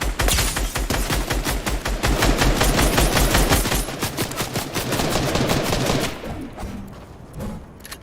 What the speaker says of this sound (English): Damn it, I thought I had the assault rifle out.